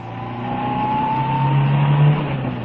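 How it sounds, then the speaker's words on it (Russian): A Soviet car on a test track accelerates during a brake test with the T2 braking system, its engine droning loudly and rising steadily in pitch as it gathers speed. "Разгон."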